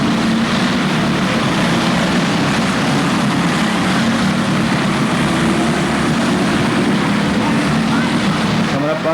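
Go-karts racing around the Orange County Fair Speedway oval, a continuous buzzing drone of many small engines blending together at steady loudness through the corners.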